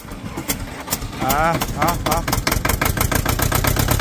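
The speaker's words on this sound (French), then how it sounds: "Bon, Antoine, il va démarrer le tracteur pour sortir Mano, parce que..." A tractor engine cranks with rapid rhythmic pulses, then catches and runs with a rough, loud, close chugging, while voices are faintly heard.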